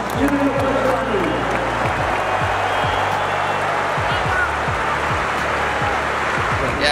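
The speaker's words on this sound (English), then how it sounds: "Give him a round of applause." A stadium crowd at a football match between Manchester United and FC Bayern applauds in a dense, sustained wash of clapping, with a voice over a loudspeaker audible at the start.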